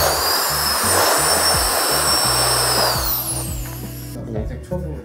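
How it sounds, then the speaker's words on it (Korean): A powerful handheld jet-engine fan blows on acrylic paint to dry it, a loud continuous high whine and rushing air with pitch shifts, then it cuts out near the end while a person talks underneath. "제트 엔진으로 만든 선풍기라고 하는데"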